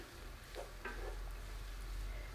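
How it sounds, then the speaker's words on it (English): A quick stir of diced beef, carrots, onions and fried eggs in a pot for Ghana fried rice gives a couple of faint, brief scrapes over a low, quiet background hum. "So I'm just giving it a quick little stir"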